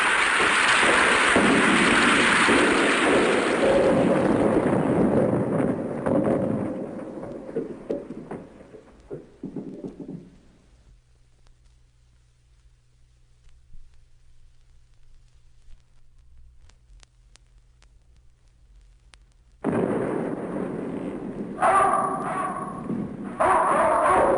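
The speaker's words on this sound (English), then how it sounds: "The sound of thunder was almost deafening." Thunderstorm thunder: a broad, loud rumble fades slowly into near silence with a low hum, then a sudden loud burst of thunder or rain noise returns near the end.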